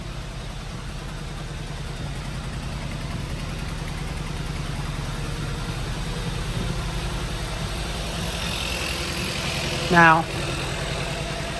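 A car engine idles steadily with head gasket sealer circulating through it, a continuous low hum throughout, with a brief louder burst near the end and a few spoken words.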